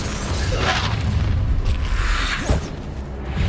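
In Hogwarts Legacy, a Confringo blasting spell sets off a deep, rumbling explosion, followed by a sustained roar and a second, smaller boom.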